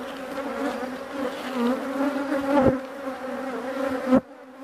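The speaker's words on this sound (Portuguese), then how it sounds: "Vocês veem aí, ó, as abelhinhas sugando um pouquinho de mel" Honeybees drone on a honey frame in an Auto Frame beehive, a close, steady, buzzing hum with swelling pitch that cuts off abruptly near the end.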